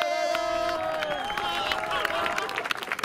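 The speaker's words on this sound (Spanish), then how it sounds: "¡Un aplauso!" Crowd cheering and clapping at a downhill mountain bike race in Las Viñas, steady and fairly close, with voices and a whistle-like tone running through it.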